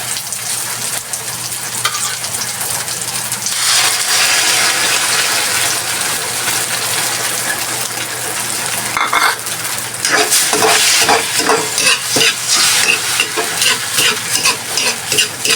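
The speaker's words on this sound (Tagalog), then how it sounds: "Sibuyas, bawang. Yan, lagay ko na ang itlog." Eggs fry with onion and garlic in a pan for a mixed-vegetable breakfast, giving a loud, close crackling sizzle with utensil scraping and stirring that grows busier and more rattly toward the end.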